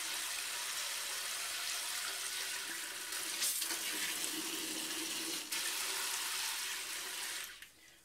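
Water running from a single-handle shower head into a bucket, a steady loud hissing splash that continues without pause, then cuts off abruptly near the end.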